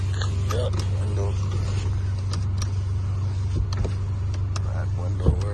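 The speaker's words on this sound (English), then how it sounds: "these windows work" Electric power windows on a Honda at a salvage auction whir and creak as they move, under a steady idling engine hum, with a voice speaking briefly nearby.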